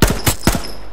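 Loud gunshots ring out in three rapid bursts in the survival shooter H1Z1, with an echoing tail after each.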